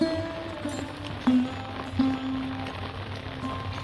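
Rain falls suddenly over a potato field in West Bengal, a soft steady patter close by, with a few sharper drops and some tonal background noise.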